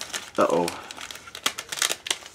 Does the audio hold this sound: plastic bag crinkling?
yes